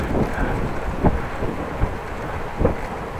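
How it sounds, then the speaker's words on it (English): Wind buffets an outdoor microphone on a dry, mild day in the Netherlands, a steady low rumble with a few louder gusts and thumps, with no voices. "it's nice weather, it's dry, a little bit wind, but we will manage."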